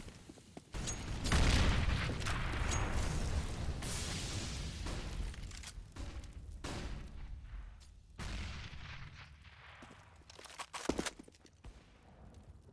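Rapid AWP sniper rifle shots and other gunfire in a Counter-Strike match on the de_cache map, loud and dense with bursts and booms across the clip, fading slightly toward the end.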